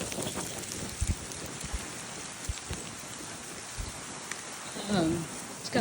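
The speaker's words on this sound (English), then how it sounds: "It's still sprinkling. Wind's gotten a little bit stronger." Light rain sprinkles in gusty wind ahead of an Arizona dust storm wall, a steady close hiss of patter with a few low thumps and a brief voice near the end.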